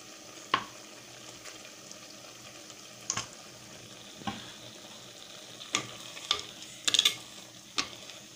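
Green onions and fenugreek greens cooking in coconut oil in a pan, a faint steady sizzle broken by occasional scraping stirs and clinks.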